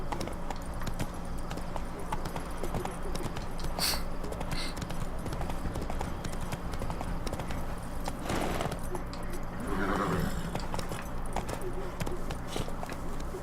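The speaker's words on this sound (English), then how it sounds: "Run, Roach" A horse gallops in The Witcher 3 video game, its steady hoofbeats running continuously at moderate level beneath ambient game sound, with a brief voice heard.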